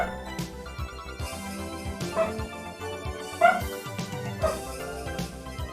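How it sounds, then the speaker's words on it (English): A dog yips and barks in several short, sharp bursts scattered through the stretch, set against steady background music and game sounds during a hololive fangame development stream. "What the dog doing?"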